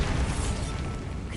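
The Bombarda explosion spell in the Hogwarts Legacy video game bursts as one dense, rumbling blast that fills the whole moment, loud and sustained with no pause.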